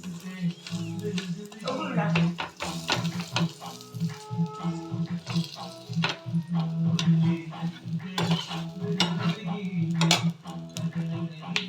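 Aloo paratha being pressed down and toasted on a hot pan gives a steady sizzle and frying crackle, with repeated scraping and tapping of a spatula against the pan, while a voice speaks over the cooking.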